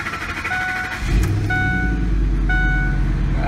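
A Ford F-150 King Ranch pickup cranks for a moment, then its engine catches and settles into a loud, steady idle, with a high electronic chime sounding repeatedly over it.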